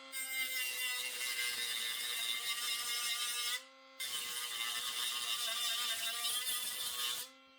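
Drill boring out a spot weld in the steel door bottom of a rusty VW Beetle, a steady high whine in two long bursts of about three and a half seconds each with a brief pause between, no speech.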